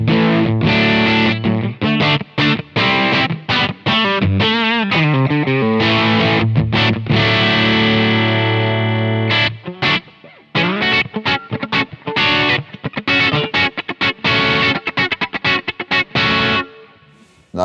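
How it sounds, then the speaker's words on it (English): Electric guitar played through a Simplifier MK2 with its plate reverb set around noon, giving loud, driven chords and sustained notes with a long ringing tail, then a run of choppy strummed stabs. "Nice plate reverb."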